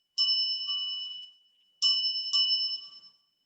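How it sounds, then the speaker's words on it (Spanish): Clear shamanic bell-like dings ring out three times, each tone bright and sustained before fading, with silence between them. "Y un comienzo puede tener que ver con sonidos así, de campanas."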